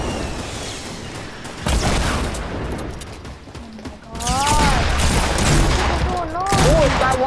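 Gunfire and RPG launches in Fortnite during a squad match, with repeated bursts of shots and heavier booming blasts, loud and close, while players talk over the action.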